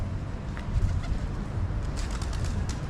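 Pigeons cooing and flapping past on Buck Street in Camden Town, London, a brief flutter of wings over a steady outdoor street hum with no one talking.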